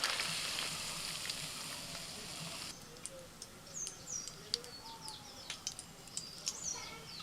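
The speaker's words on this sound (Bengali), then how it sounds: "ডিম একদম হালকা করে ভেজে তুলে নিচ্ছি।" An egg fries in mustard oil with salt and turmeric in a wok. A loud, close sizzle for the first few seconds drops to a softer hiss while birds chirp repeatedly in the background.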